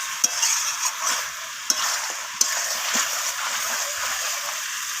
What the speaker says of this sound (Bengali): তো হলুদ গুঁড়োটা দিয়ে আমি আবারও নাড়াচাড়া করে নিচ্ছি।